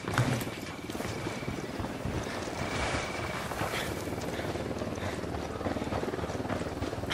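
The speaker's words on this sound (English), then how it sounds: "Chopper inbound." Helicopter approaching in the Tom Clancy's Ghost Recon Wildlands video game, a steady, loud rotor and engine roar that holds throughout with a continuous rumbling drone and some wind-like noise.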